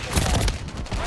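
Shotgun blasts ring out in a video game firefight, a dense burst of loud, overlapping gunfire over about a second, rough and continuous rather than cleanly separated shots.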